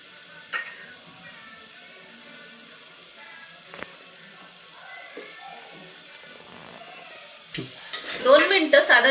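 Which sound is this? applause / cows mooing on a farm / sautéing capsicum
sautéing capsicum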